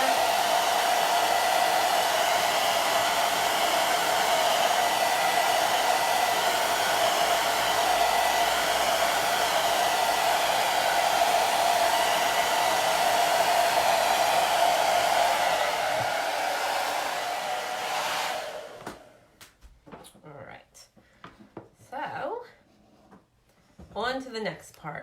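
A hair dryer runs loud and steady for about eighteen seconds while drying chalk paste on a canvas, then cuts off, and a person's voice follows at close range.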